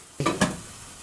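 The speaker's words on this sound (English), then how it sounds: "Then we will stir." Food in a cooking pot gets two quick stirs, a pair of short scraping swishes with a light sizzle, close up, followed by a quiet simmering background.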